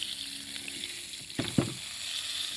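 Chilean sea bass fillets sizzle steadily in a hot pan, with two quick, louder clatters and spatters near the middle as the fish is flipped.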